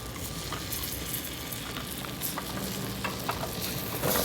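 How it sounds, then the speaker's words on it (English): Diced Vidalia onion sizzles in melted butter in a pan on a grill, giving a steady dense crackle with small pops, close and continuous. "Get this butter melted and start to add in the onion"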